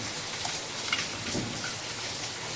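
Steady heavy rain falls outside, a constant hiss of drops heard indoors with no voices.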